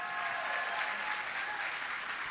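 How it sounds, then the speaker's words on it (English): Guests at an evening gala applaud an honoured friend, a continuous, even roar of many people clapping heard from within the room. "Let's give him a round of applause"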